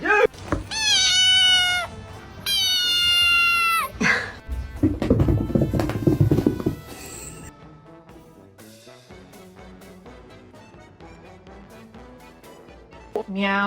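A scared kitten lets out a burst of loud, high, rapid meows close by, then goes quiet as softer knocks and rustling follow.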